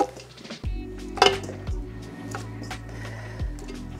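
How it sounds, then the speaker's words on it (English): Beef back ribs go into a big pot for abgoosht broth, giving a loud metallic clunk and clatter of meat and pot near the start, then quieter handling knocks against the pot. "I'm going to put them in a big pot, because we are going to cook this for a very long time."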